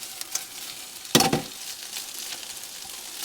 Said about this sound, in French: maintenant tu rajoutes les lardons qui prennent un peu de couleur